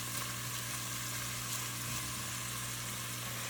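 Onion frying in a Dutch oven gives a dense, even sizzle that runs unbroken and fairly quiet, with no voice over it.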